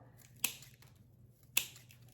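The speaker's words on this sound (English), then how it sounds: "Just using my scissors." Two crisp scissor snips through garland about a second apart, close and quiet against a low background hum.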